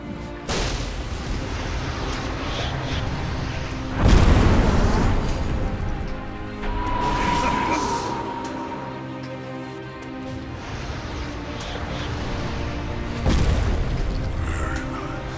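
Heavy booms and blasts hit Dota 2 towers under attack, a few loud impacts spaced several seconds apart over a rumbling battle backdrop with swooshing effects.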